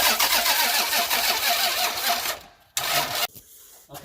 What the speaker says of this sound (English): I'll have the owner of the car crank it over a little